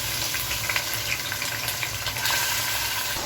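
Marinated meat going into a pan of fried potatoes and browned onions for tehari, a loud dense sizzle swelling slightly as it lands, with faint stirring clicks and no talking.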